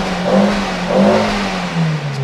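A car with a 1.3 engine revs in two rising swells, then settles into a steady mid-pitched hum, heard close and fairly loud with no talking.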